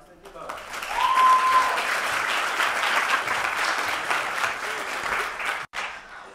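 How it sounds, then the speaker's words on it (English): A campus lecture audience claps warmly to welcome a lecturer, the applause swelling quickly, holding steady for several seconds, then tapering off. "I know that earlier applause was for the fact that this is the last lecture of the semester"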